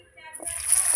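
Cut potatoes drop into hot oil for French fries and start a loud, steady sizzle, close by and rising within a second, with a voice briefly heard at the start.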